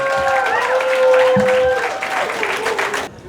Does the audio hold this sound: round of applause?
yes